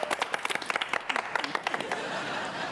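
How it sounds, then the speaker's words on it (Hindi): A group claps loudly in a rapid, uneven burst of hand claps that tapers off toward the end, with faint chatter underneath. "एक बार जोरदार तालियां हो जाएं।"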